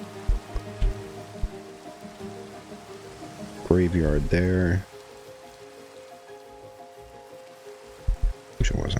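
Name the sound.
rain falling in Minecraft video game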